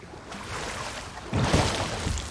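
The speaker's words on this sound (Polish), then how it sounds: "Dobra, skuterem wodnym przepłyniemy sobie." A jet ski rides across the water in the video game Far Cry 6, a soft wash of engine and water at first, then a louder surge of spray and splashing.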